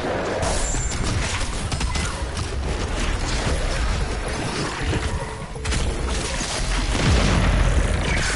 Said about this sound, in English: Homing rockets!